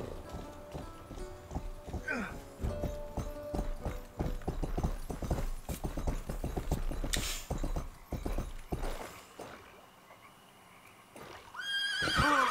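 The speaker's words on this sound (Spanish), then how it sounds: "A ver, por aquí había dejado yo mi caballo." A horse in the medieval game Rustler trots with rapid, loud clip-clopping hooves and whinnies twice, once early and once near the end, over game ambience before the hooves fall quiet.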